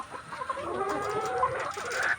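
Layer hens on a poultry farm, some with watery eyes, cluck faintly as a soft, continuous flock murmur in the background, with no talking.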